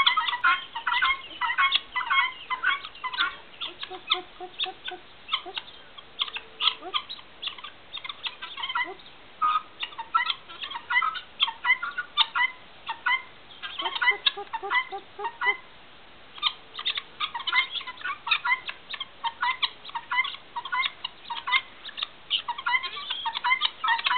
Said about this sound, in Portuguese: Kátia, isso aqui é galinha de Angola que seu pai está criando